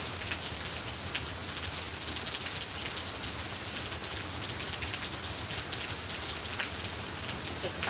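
Steady outdoor rain pours down for the whole stretch, a dense hiss of drops pattering on surfaces, with no voices.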